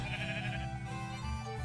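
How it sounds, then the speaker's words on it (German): Sheep bleating in Minecraft, a short blocky game bleat with steady harmonic tones over a low background hum, close and fairly loud, no talk. "War irgendwo ein zweites Schaf"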